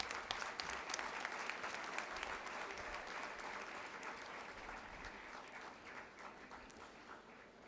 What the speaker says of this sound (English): a big round of applause for our chief guest, Padma Shri Dr. Milind Kamble